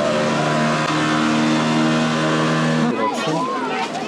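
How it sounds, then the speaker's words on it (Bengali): A speed boat at a holiday park passes with a loud, droning engine whine that holds steady and then fades near the end, under someone talking nearby. "এখান থেকে কিন্তু স্পিড বোটে যেতে পারেন। এই যে যাচ্ছে"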